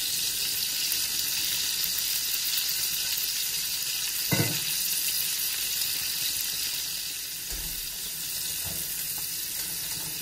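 Mushrooms fry in a pan of steak fat with a constant close hiss and sizzle, broken by a few light knocks of a utensil against the pan. No one speaks.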